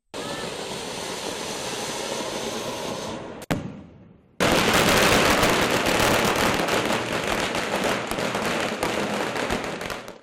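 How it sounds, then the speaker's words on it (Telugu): Diwali firecrackers set off after lamps are lit, a dense, loud, continuous crackling barrage that breaks off briefly, then resumes even louder with rapid overlapping bursts. "ఖమ్మంలో దీపాలు వెలిగించిన అనంతరం టపాసులు కాల్చారు"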